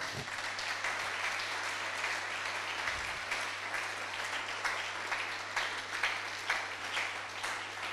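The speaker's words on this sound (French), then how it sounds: "On acclame le Seigneur." Church congregation applauding and clapping together in praise, a steady dense wash of hands filling the room for several seconds with no speech over it.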